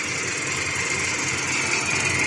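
A small Honda motorcycle engine with a carburetor runs at a steady idle throughout, a continuous even rumble with a buzzing, high-pitched mechanical whine on top.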